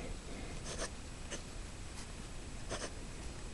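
A Levenger Plumpster fountain pen scratches across paper in short, soft strokes, several brief bursts of faint nib friction with gaps between them over a quiet hissy background.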